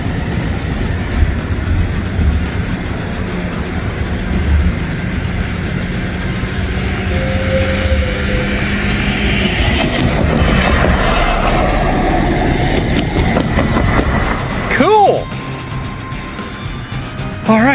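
CSX freight trains roll past on the rails, a steady loud rumble with a faint clickety-clack of wagons that swells in the middle and breaks into a sharp squeal near the end, with no voices.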